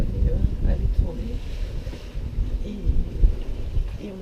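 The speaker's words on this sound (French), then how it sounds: "là, le génois claque, tout ce qui sait, j'imagine qu'on l'entend." A genoa sail flaps and snaps in the wind on a sailboat during a solo crossing just after a gybe, giving irregular low thumps under heavy wind rumble and microphone buffeting, with a voice speaking.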